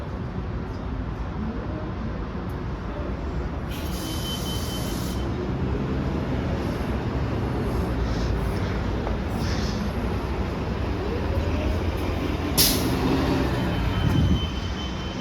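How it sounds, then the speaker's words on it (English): Fairfax Connector bus at a stop at Fairfax Corner, a steady loud engine rumble building as it pulls away, with brief hissing bursts over the continuous drone. "Look, there are two Fairfax connector buses."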